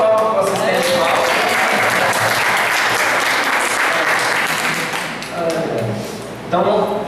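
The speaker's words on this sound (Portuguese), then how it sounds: "uma salva de palmas para o assistente de palco" An audience claps for the stage assistant at a stand-up comedy and motivational talk show. The applause is sustained, dense and loud, and a voice is heard briefly before and after it.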